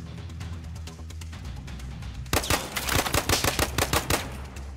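Semi-automatic gunfire in a shooter video game played in VR on a Quest 3: a quiet stretch, then a burst of repeated loud shots in an uneven rhythm, some fairly close together, with no talking.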